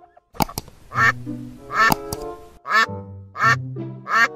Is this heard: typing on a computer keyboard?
no